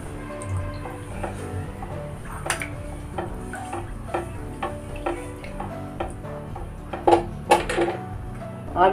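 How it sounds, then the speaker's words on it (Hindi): A spoon stirs sugar syrup in a pan on the stove, making repeated light ticks and scrapes against the metal, close and fairly quiet, with a few louder clatters near the end. "अब इसको हिला के मिला के इसको पका लेंगे।"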